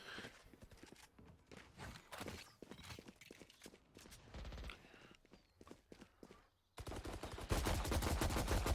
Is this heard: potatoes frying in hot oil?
no